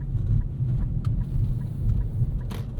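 Road noise inside a 2025 Nissan Kicks SR crossing potholes on a city street: a steady low cabin rumble with a few faint thumps and knocks, and no one talking.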